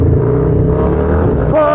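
A Harley-Davidson King of the Baggers motorcycle engine accelerates, its deep rumbling exhaust loud and close, holding a steady throaty drone before rising in pitch near the end.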